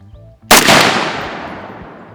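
A single loud gunshot at an outdoor shooting range, a sharp close crack followed by a long fading echo.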